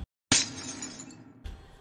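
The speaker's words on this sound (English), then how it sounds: "one of the sound effects that plays in the background in this area is actually a somewhat modified version of the glass breaking sound from Minecraft" A modified glass-breaking sound effect taken from Minecraft, played in the background of an art gallery area in a video game: one sharp, bright shatter with a ringing tail, then a second fainter crash, with no speech.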